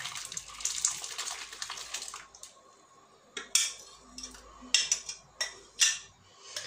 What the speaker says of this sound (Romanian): Am să pun acum lintea, am pus-o în pahar ca să o torn mai ușor.